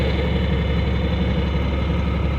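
Farm tractor engine idling with a three-point disc mower attached, a steady loud low rumble with constant throbbing and no variation, close by and alone without voices.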